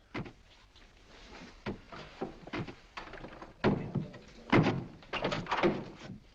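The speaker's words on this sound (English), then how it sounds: "What's just the steam in the water pipes?" Steam knocking in water pipes: hollow knocking and thunking in an irregular series, some soft and some sharper and louder, like pipes banging inside a wall.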